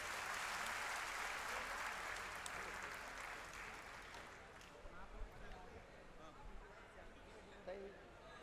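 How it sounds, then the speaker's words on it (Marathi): Crowd applause at a political rally welcoming an arriving guest, a dense, steady wash of clapping that is loud at first and thins out over the last few seconds with scattered sounds. "त्यांचं स्वागत करा जोरदार टाळ्या वाजवून"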